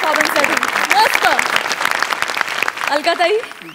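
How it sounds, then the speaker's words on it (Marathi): A studio audience claps for a comedy sketch on a Marathi comedy show. The dense, crackling applause runs throughout, and a host's voice speaks loudly over it. "जोरदार टाळ्या या परफॉर्मन्ससाठी"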